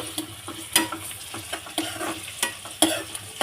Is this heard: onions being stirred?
yes